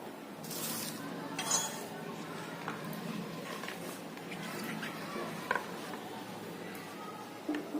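Mango pieces are being mixed by hand with jaggery, mustard powder, salt and freshly ground chili powder for a sweet mango pickle, giving soft squishing and scraping sounds with occasional light clinks of a bowl, fairly quiet and close.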